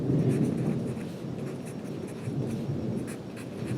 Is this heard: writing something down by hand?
yes